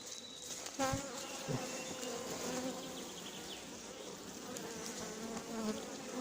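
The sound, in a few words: defensive honeybees buzzing around an opened hive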